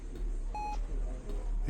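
In the video game The Signifier, a hospital-style electronic beep sounds once as a short, clean tone over a low ambient hum, with faint indistinct voice-like sound in the background.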